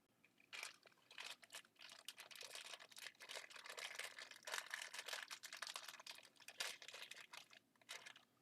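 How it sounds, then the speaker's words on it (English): A packet of crisps crinkles and rustles close by in bursts of crackling handling noise. It is fairly loud against a quiet background, with short pauses between the scrunches. "You can hear all that rustling."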